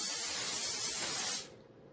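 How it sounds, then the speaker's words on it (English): Cooking spray hisses steadily onto the top of a stromboli in one loud, close, continuous burst of about a second and a half, then cuts off abruptly. "I'm just going to put some cooking spray"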